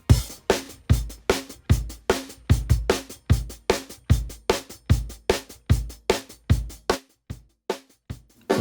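Raw kick and snare drums recorded in a vocal booth at Esplanade Studios in New Orleans, with two mics on a hi-hat, a steady driving beat of punchy hits, close and loud, briefly pausing near the end.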